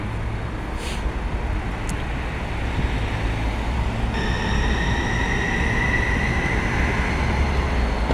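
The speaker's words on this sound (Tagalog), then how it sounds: "Daanan ng tren to." A steady low rumble of rail traffic rolls by at moderate distance, with faint high tones joining partway through; no one speaks.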